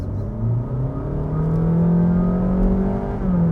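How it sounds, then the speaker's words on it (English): A Honda Jazz Hybrid (2020) engine revs steadily upward, its droning pitch climbing and holding loud and close, with no voices. "the revs go up and then you get what almost sounds like a racing car changing gear"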